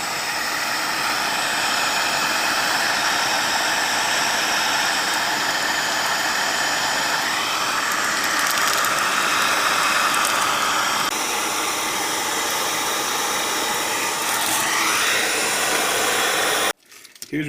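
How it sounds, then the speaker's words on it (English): A heat gun blows hot air onto a bowl made from recycled plastic bags, a loud continuous fan-like roar close to the mic that holds steady for most of the stretch before cutting off abruptly near the end. "I took the heat gun."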